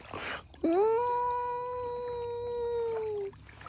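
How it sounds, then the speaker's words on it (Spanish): A single long, drawn-out cat meow, steady and fairly close, lasting a few seconds with a slight rise at the start and quiet around it. "Era un gato"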